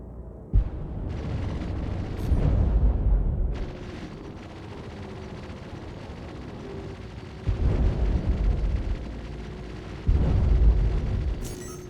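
In Star Citizen, a missile hits a spaceship as a series of heavy booming impacts, each a deep rumbling blast separated by low hum, with four distinct explosions spread over the stretch.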